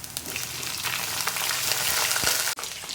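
Liver sizzles hard in hot oil with browned onion, garlic and ginger, a dense continuous crackle with small pops and one brief stir-like break near the end, close and loud with no talk.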